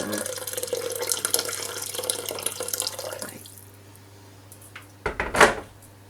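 Water running steadily from a tap into a pot of pea soup, a continuous close rush that stops, followed by a few faint clinks and a brief clatter.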